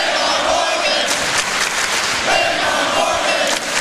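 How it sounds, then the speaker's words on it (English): A basketball arena crowd at an NCAA game between Gonzaga and Michigan State roars steadily, with loud sustained cheering and shouting filling the whole space, urging on an injured player down on the floor. "The crowd trying to exhort him to get back up."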